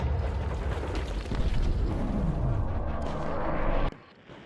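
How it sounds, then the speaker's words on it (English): Blasts from a 12-gauge M4 shotgun loaded with double-aught buckshot, fired at a Tesla Cybertruck, come as loud, close booming reports with rolling echo that ends abruptly. "This is a 12-gauge M4 shotgun with double-aught buck."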